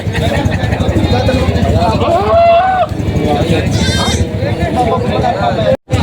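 Goats for sale, including a large brown goat, bleat several times amid a busy livestock market, with people talking loudly and crowd chatter throughout.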